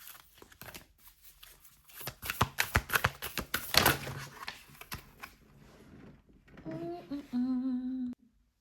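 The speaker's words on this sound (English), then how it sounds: "We're going to keep shuffling." A deck of tarot cards is shuffled by hand, with rapid papery riffles and slaps building into a loud burst mid-clip. A short tonal hum follows near the end.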